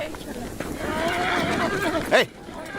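Horse neighs loudly in a Hindi-dubbed movie scene, a rising whinny near the end heard over ongoing talk and a busy background.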